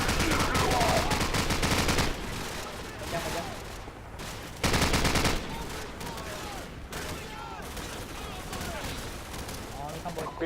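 Sustained machine gun fire with dense rapid bursts and explosive gunshots in the video game Call of Duty 4 Modern Warfare, loud and continuous throughout, with brief pauses between volleys.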